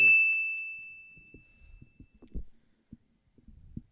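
A phone gives a single bright notification chime that rings and fades over about a second, followed by faint thumps and soft low shuffling in a quiet room.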